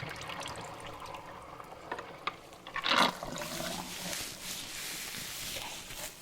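Water splashes and rinses through real hair during a wash and scalp massage, a steady running pour with a louder gush midway, close and alone.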